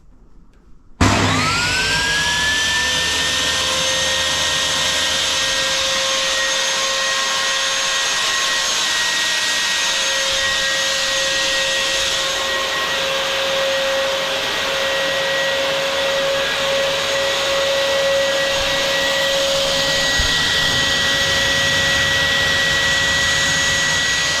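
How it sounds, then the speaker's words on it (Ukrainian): A cheap Kraft&Dele KD5292 circular saw motor whirs up from silence to a steady, loud, high-pitched whine that runs continuously without pause. "працює двигун. Не тихенький, але по звуку чутно."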